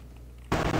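A single loud gunshot from the game Counter-Strike: Global Offensive bursts in sharply after a quiet half-second and rings on briefly.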